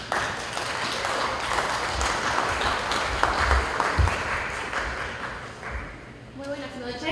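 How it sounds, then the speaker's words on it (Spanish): Audience applause fills a hall at a Peruvian panel discussion hosted by the USHNU association: dense, steady clapping for about six seconds, then fading as a voice begins speaking near the end. "Le brindamos el aplauso."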